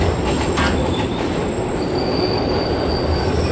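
An R160A subway train on the M line in the OpenBVE train simulator runs with a loud continuous roar of wheels on rail, a steady rumbling drone with faint high squealing tones, and no talk.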